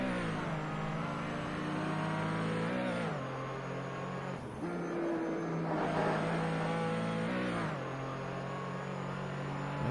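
A Porsche 935/K3 race car engine drones steadily at high revs, with brief dips in pitch at the gear changes, heard continuously from onboard.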